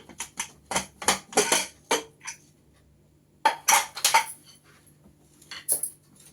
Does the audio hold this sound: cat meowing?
no